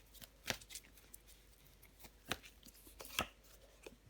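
A tarot card is laid over another card on a table, giving a few soft slaps and paper rustles close by, quiet and alone without talk.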